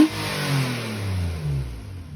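2009 Nissan Maxima fitted with a cold air intake, its engine giving a short rev that rises and falls in pitch, close and fairly loud, heard alone.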